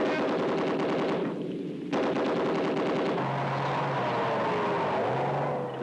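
British Army tank troop machine guns fire speculative bursts during 1979 troop-platoon tactics: rapid, loud rattling volleys with a brief pause, then tracked vehicle engines rumble and whine as firing stops.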